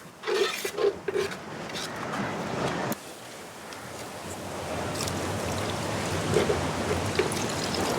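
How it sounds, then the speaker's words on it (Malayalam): Water is poured into masala frying in a pan during outdoor beachside village cooking of honey chicken shawai, a steady rushing pour that runs for several seconds over a constant sizzling background. "കുറച്ചുകൂടെ വെള്ളം ഒഴിച്ചോ അമ്മായി."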